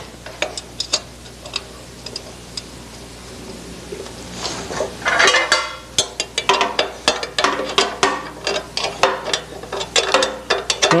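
A wrench ratchets as it tightens down a gasket cover, starting with sparse clicks, then turning into a dense run of loud, rapid ratcheting clicks close by.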